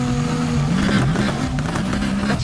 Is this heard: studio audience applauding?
no